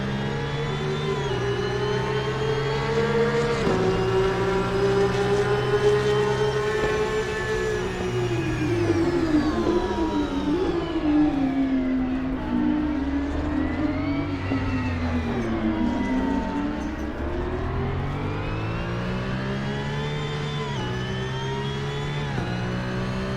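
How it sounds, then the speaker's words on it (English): A race car engine in the rFactor racing game screams at very high revs, a loud continuous whine that rises and dips in pitch with throttle and gear changes, no talking. "It's really high rev."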